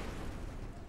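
Explosion in Far Cry 3, a dense rumbling boom filling the short moment with heavy low-end roar and no clear onset or decay.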